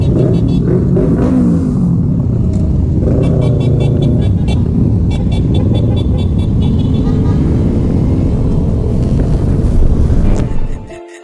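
Big bike motorcycles on a charity group ride rumble steadily and loudly throughout, a continuous close engine drone with wind noise that cuts off abruptly at the end.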